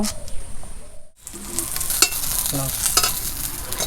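Green chillies fry in a pan, a soft oil sizzle broken by a brief quiet moment and then scraping stirs and light clinks of a utensil against the pan.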